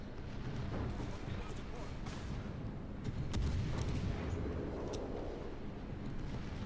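Naval battle in World of Warships with a Missouri battleship nearby, deep rumbling booms of gunfire and explosions rolling over a dense low background, with someone talking over them.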